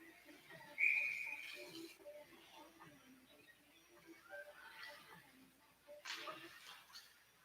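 At a college ice hockey game between the Cards and Towson, a referee blows one short, sharp whistle early on, over a low arena murmur and ongoing commentary.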